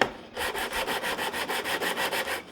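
Steady back-and-forth sanding of a wooden guitar neck during contouring, a bright rasping hiss pulsing in quick, regular strokes up close, with no talking.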